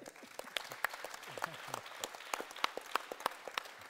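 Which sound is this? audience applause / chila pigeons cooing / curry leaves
audience applause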